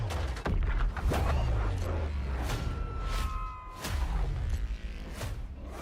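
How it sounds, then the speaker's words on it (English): Explosions and booming blasts from a Split Fiction co-op video game trailer shown at The Game Awards 2024, loud and continuous with whooshes and heavy low rumble throughout. "We sure cause a lot of explosions."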